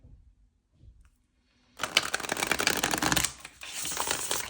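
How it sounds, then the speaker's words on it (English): Tarot cards are shuffled in a quiet room, a soft tap or two, then a burst of dense riffling flutters, a brief pause and another riffle, close up with no talking. "I want to shuffle it one more time"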